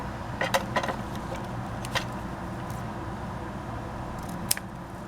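Paper being cut to size with scissors for a craft folio, a few soft, crisp snips scattered across a quiet background, close and faint.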